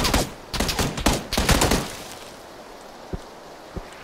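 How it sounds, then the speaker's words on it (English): Gunfire in an online battle royale game, a rapid burst of loud close shots in quick succession, then a quieter lull with two isolated distant pops. "Someone shooting at me?"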